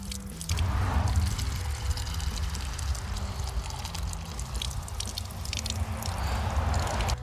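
Mountain spring water from a roadside spring in the Ozarks running into a McDonald's cup, a steady close splashing and gurgling stream with outdoor ambience, continuing for several seconds.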